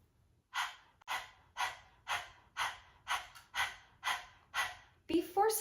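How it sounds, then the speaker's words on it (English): A person pants forcefully with the tongue out, like a dog, during a yoga breathing exercise. Close, evenly spaced breaths, about ten, sound in a steady rhythm, ending in a quicker, rougher flurry. "stick out your tongue and start panting like a dog"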